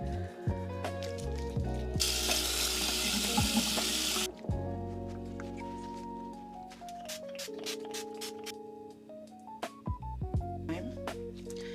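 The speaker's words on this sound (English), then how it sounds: "Then you rinse it off with warm water." Warm tap water runs at a sink while a face is rinsed, a steady rushing stream of about two seconds that then stops, set against background music with scattered small handling sounds.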